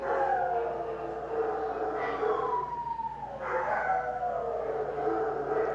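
Several Rottweilers howl together in long, rising and falling siren-like wails that overlap continuously, fairly close and steady throughout.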